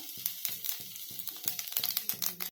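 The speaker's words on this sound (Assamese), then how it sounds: "এয়া জিৰাখিনি ফুটি আহিছে।" Cumin seeds splutter in hot oil with ghee and whole spices, giving a close, crackling sizzle. Small popping bursts repeat in a loose rhythm over a continuous frying hiss.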